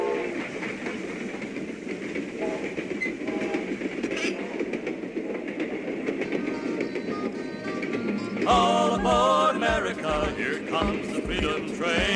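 The 1976 American Freedom Train rumbles steadily along the tracks with rhythmic clattering and mechanical noise, growing louder and busier toward the end.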